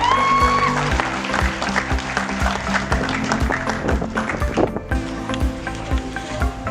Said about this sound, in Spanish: vamos a darle un fuerte aplauso a Verónica Palma